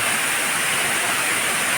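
A waterfall roars as a loud, steady broadband rush of falling water, constant and close with no breaks.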